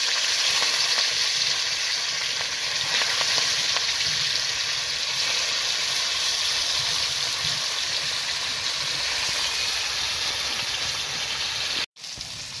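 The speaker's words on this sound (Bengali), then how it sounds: "এবার আমি একটা একটা করে মাছের পিসগুলো তেলে দিয়ে দিব।" Fish pieces frying in hot mustard oil in a pan, a steady loud crackling sizzle that continues without pause throughout, no voices.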